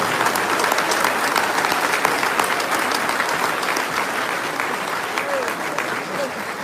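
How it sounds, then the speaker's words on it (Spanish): Dense, continuous applause from a crowd at a Catholic religious talk fills the whole stretch at a steady loudness, tapering a little near the close. "Aplausos para la hermana."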